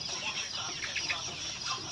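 Young Roman Brown laying hens, seven weeks old, cluck steadily in a flock, many overlapping soft calls forming a continuous close chorus with no talk.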